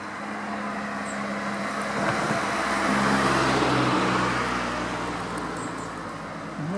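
Vehicles of the publicity caravan at the Polynormande cycling race roll past on the road, a steady close wash of engine and traffic noise that swells toward the middle and eases off again.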